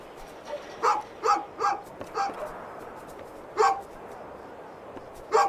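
A dog barks in a string of sharp, yapping bursts, several in quick succession and then a couple more after a pause, loud and close over a faint background hiss.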